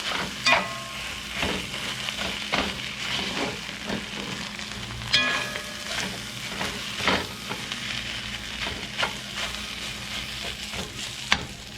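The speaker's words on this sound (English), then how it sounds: "Now, I'm going to fry this down and I'll come back and show you." Citrus beef frying in a pan, a steady sizzle with intermittent scraping and stirring clatters as the meat is broken up, close and alone without talk.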